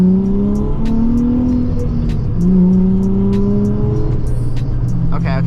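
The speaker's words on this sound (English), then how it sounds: "Oh, downshift, that beautiful downshift. Second gear already." A Nissan 350z engine blips and drops into second gear on a street drive, its loud steady exhaust drone shifting pitch through the downshift, heard close from inside the car.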